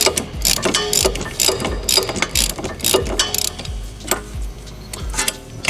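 A ratchet clicks rapidly in repeated bursts as a nut and bolt are worked loose during an Air Lift Performance suspension install on a Dodge/Chrysler, with close, sharp metallic ticks and pauses between strokes.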